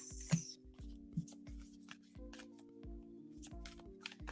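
Tarot cards being shuffled by hand in a quiet room, a run of soft riffling and tapping bursts repeating through the stretch with no talking.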